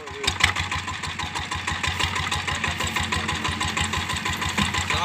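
The engine of a sugarcane juice machine runs just after starting, with a loud, close, rhythmic chugging idle of evenly spaced thumps that holds steady.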